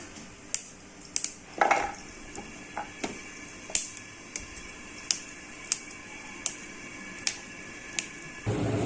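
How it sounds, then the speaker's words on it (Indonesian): A knife taps steadily through long beans on a cutting board, about a dozen crisp, fairly close knocks at an even pace, with no talking. "6 batang kacang panjang. Dan ini akan saya potong-potong."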